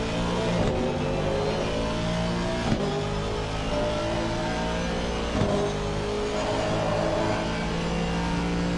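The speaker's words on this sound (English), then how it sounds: "Listen to that engine roar." Aston Martin race car engine at Silverstone during a race, a loud steady roar with rising revving tones and brief bursts, close and continuous with no talking.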